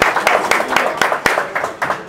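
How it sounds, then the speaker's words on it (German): At a fighters' weigh-in event, hands clap in a quick, steady rhythm of sharp, close beats over a couple of seconds. "Applaus, geh mal."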